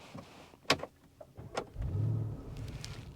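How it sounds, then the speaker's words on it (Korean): A Porsche Cayenne Turbo Coupe's 4.0-litre twin-turbo V8 engine turns over and catches, settling into a low rumbling idle after a few clicks and thumps. "시동을 걸자마자 바로 이 카이엔 쿠페와는 다른 그런 배기음이 들리고요"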